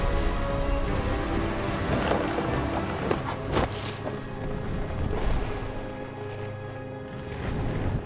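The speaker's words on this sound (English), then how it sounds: "The thunder sounded much too close and full of angry power." Thunderstorm in the video game What Remains of Edith Finch: steady rain hiss throughout with several sharp, close thunder cracks and rumbles, under a faint musical tone.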